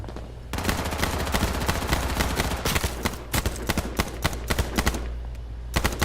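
Rapid bursts of automatic gunfire from the battle royale video game H1Z1, dense overlapping shots and rattling volleys filling the whole stretch at steady loudness, with no talking.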